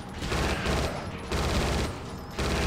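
Sustained automatic gunfire in the video game Judge Dredd vs. Death, in two long, loud, continuous bursts separated by short pauses, with no talk over it.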